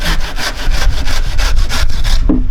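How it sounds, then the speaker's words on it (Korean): A hand saw cuts through a thick kudzu root in quick, loud, rhythmic rasping strokes, about ten pulls in under three seconds, heard close up with no talking. "이게 톱으로 잘 잘려요, 사실."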